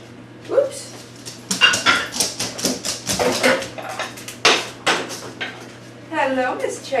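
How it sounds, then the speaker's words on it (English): A dog whimpers and barks in a home kitchen while butter is being prepared, short yelps and whines close by amid clattering dishes and drawers, with a person talking over it. "The dog is coming to visit."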